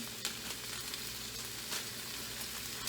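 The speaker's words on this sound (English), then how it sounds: "I'm going to let those saute a little bit." Frozen diced green peppers sautéing in a pan for chicken fajitas give a faint, steady sizzle and crackle, with a few slightly louder pops, and no voices.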